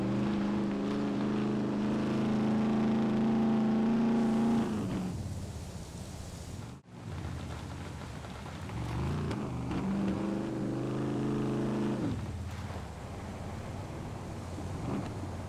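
A quad bike engine drones steadily while driving in the survival video game SCUM, easing off briefly midway before revving back up to a continuous hum, with wind noise and no talking.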